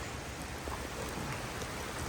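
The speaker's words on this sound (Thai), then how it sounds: "ลมมาแรงแล้วฝนมาแรงแล้ว" Rain driven by strong wind in Surin, Thailand, makes a faint, even hiss of pattering drops that continues without a break, with no talking over it.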